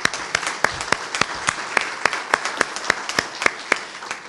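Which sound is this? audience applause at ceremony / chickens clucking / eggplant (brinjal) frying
audience applause at ceremony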